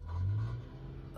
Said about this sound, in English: Something's not right with that car.